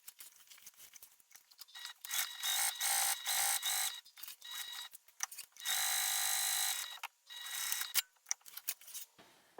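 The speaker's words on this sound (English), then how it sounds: "I'm just going to do the 1 row of stitching on each side." A sewing machine stitches a backpack panel edge in short and long bursts of fast mechanical clatter, separated by quiet pauses and small clicks, close and alone without talk.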